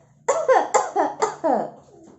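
A parrot imitates a cough: five or six short, raspy bursts in quick succession, close and fairly loud, ending with a softer trailing sound.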